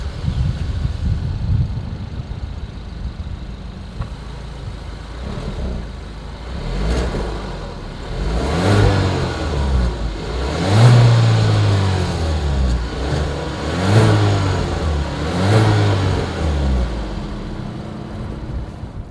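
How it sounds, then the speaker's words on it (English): A 2021 Kia Seltos exhaust heard from behind the car: a steady idle, then a series of about five sharp revs that climb and fall back, loud and close, with no talk. "As always, here is that exhaust clip."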